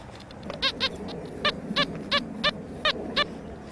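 A series of short, bright electronic beeps from an XP Deus metal detector in pitch mode at 8 kHz repeats at an uneven pace over a soft background hiss, each tone clipped and fairly close.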